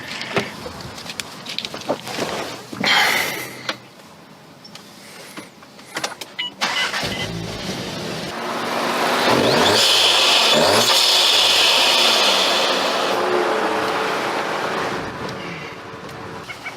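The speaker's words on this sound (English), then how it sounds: "If you haven't heard lately a car with an exposed, like open intake like this that has a turbo, it's pretty phenomenal." A turbocharged 2019 VW Golf R MK7 with a 2.0T engine and an exposed open cold air intake starts up and revs, the intake roar swelling loud and close before settling, with no talk over it.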